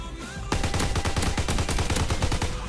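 Rapid automatic gunfire from a WWII first-person shooter game rattles out in a fast, loud burst of evenly spaced shots after a brief quiet lead-in.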